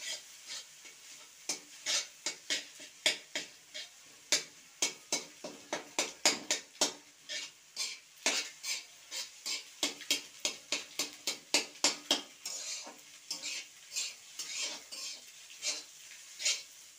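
A spatula scrapes and clinks rapidly against a pan, stirring egg with cumin powder and potato over a faint sizzle, in quick, uneven strokes that go on for a long stretch.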